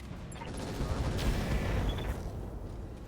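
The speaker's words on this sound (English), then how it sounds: "I will drop the AGM" An air-to-ground missile strike in the RogueTech video game gives a rumbling explosive blast with crackling booms that swell and then fade, heard fairly quietly.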